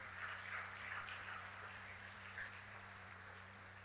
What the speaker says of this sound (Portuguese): Aplauda ao Senhor pela palavra dele.